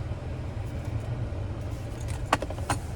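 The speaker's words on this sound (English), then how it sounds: "Finally, here's the key fob with remote start." A key fob with remote start for a 2025 Hyundai Elantra N Line jingles briefly as it is handled, producing a couple of close, bright metallic rattles over a steady low background hum.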